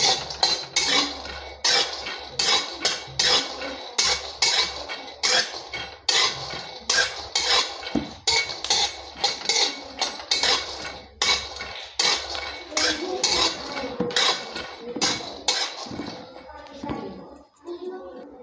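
Peanuts dry-roasting in a pan for sesame laddoos, stirred with rapid rattling scrapes and clinks of a utensil against metal in a constant rhythm, with someone speaking over it.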